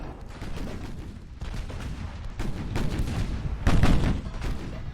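Battleship 15-inch guns firing at close range in the naval game Ultimate Admiral: Dreadnoughts, giving heavy booming salvos over a continuous low rumble, with the loudest blast near the end.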